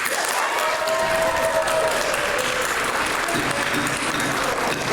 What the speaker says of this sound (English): should clap now.